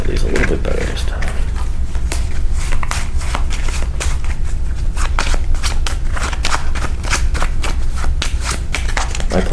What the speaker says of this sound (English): I will shuffle these a little bit better this time.